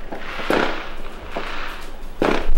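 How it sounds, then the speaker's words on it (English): Several sharp fireworks bangs and crackles go off at a distance, spaced irregularly against quiet outdoor background. "Sounds like people are still lighting off fireworks."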